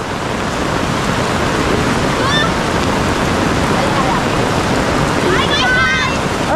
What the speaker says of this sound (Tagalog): bumuhos naman yung malakas na ulan